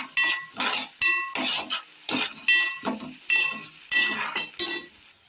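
Soya chunk manchuria mixture with chopped onions being stirred in a pan, giving a repeated scrape and clatter of a utensil against metal over a soft sizzle, close and fairly loud, with no talk.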